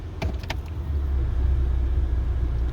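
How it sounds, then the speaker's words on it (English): Volvo S60 tires rolling slowly over a home driveway, giving a steady low rumble and crunch that holds throughout, with a couple of brief clicks near the start. "That's the tires on my driveway, that sound."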